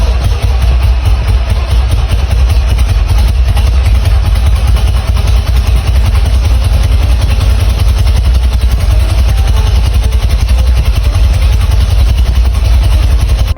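A custom motorcycle with two 70-year-old Velocette engines and a supercharger runs steadily, a loud, close, clattering idle that stays even and unbroken throughout.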